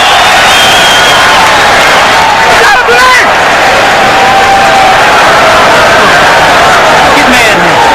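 A boxing arena crowd at a professional title fight roars and cheers continuously, loud and dense, with an announcer's voice talking over it throughout.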